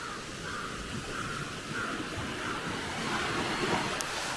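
A crow-like bird caws a few times near a foggy stretch of ocean, the calls faint and scattered over a steady wash of surf and wind.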